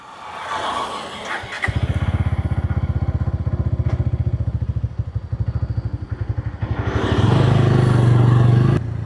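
A Bajaj Pulsar N160 motorcycle engine catches and settles into a close, steady single-cylinder thump, then swells into a louder, smoother drone as it picks up revs while riding.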